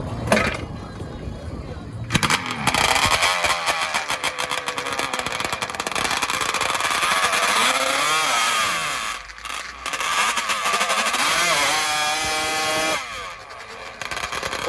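Several Yamaha dirt bikes race side by side at full throttle in a lane showdown, engines screaming loud and close in a continuous high-revving roar with brief dips and surges, a voice faintly underneath.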